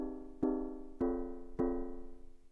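Collision synth in Ableton Live 10 set to a mallet striking a membrane: three regular plucky hits, each with a sharp attack and a warm, ringing tone that fades slowly between strikes.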